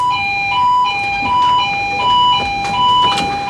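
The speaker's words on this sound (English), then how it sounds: "he shuts the door and sounds the alarm" A loud electronic fire alarm aboard a ship sounding in repeated pulses, alternating between two steady tones in a regular cycle.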